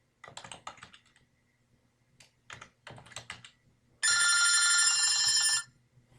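Bursts of typing on a computer keyboard as a patient's name is entered into a medical eligibility form, with quick clustered keystrokes separated by short pauses, then a loud sustained telephone-like ringing tone near the end.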